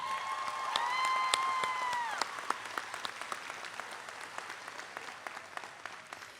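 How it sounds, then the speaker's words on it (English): Applause from the audience at a junior high school graduation ceremony, a steady crowd clapping that runs the whole stretch, with a brief tonal whine over it early on before the clapping settles and thins slightly. "We would like to give you a round of applause, as we have just done."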